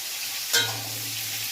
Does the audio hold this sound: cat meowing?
no